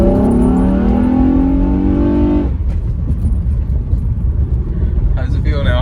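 A 6th-generation Honda Accord with a ported throttle body revs loudly, engine roar holding steady then dropping off, with people talking over the sound.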